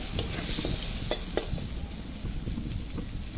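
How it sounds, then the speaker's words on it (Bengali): Potatoes frying with salt and turmeric in a pan give a steady sizzle under scattered scraping and stirring clicks from a spoon, close and moderately loud. "লবণ দিলাম, হলুদ দিলাম, আলুটা আমি লাল লাল করে ভেজে নিচ্ছি।"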